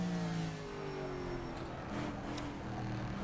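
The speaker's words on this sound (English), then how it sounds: "just shifting down to third before I think about straightening her up for the braking at the bottom here" Simulated AC Cobra 427 V8 in rFactor 2 at Longford, a steady engine drone with falling harmonic pitch as it downshifts, loud and continuous throughout with no talk.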